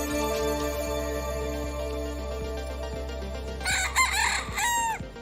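A rescued fighting rooster crows once, a loud, rising-then-falling call near the end, over a steady background of continuous music or hum.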